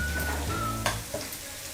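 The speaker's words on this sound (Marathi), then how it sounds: "हळद अर्धा चम्मच आणि छान असे परतून घ्यायचे आहेत मसाले" Red chili, garam masala and turmeric are sautéed in a pan for prawns, giving a soft, quiet sizzle with a couple of light stirring scrapes and no talking.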